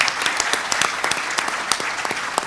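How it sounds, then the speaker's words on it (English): An audience at a religious freedom conference gives a round of applause, dense and steady clapping from many hands filling the room for the whole stretch, with no speech over it. "I hope you'd give them a round of applause"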